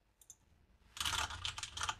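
Typing on a computer keyboard into a password field, heard as a dense run of quick, close key clicks after a brief quiet tap, with no voices.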